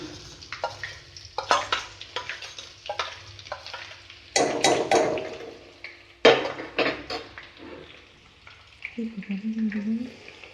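Garlic drops into hot oil for an amla pickle, giving bursts of sizzling and frying amid clatter of a spoon stirring a pan, with quieter gaps between the louder splashes.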